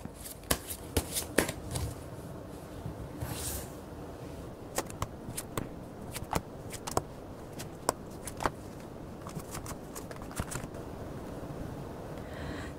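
Tarot cards are shuffled and drawn close up, with soft papery riffles and repeated sharp snaps of cards over a low background hiss.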